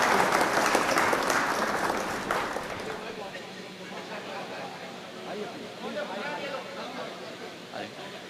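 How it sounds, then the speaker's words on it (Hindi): A crowd at an All India mushaira in Khatauli breaks into loud, dense applause that fades after a few seconds into a softer patter, with a voice speaking over the hall. "एक बार जोरदार तालियां बजाकर"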